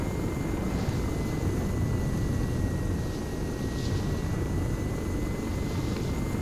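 Aircraft flying over the Malden map in ArmA 3, a constant loud rotor-and-engine drone with a steady whine, unbroken throughout and close, with no voices.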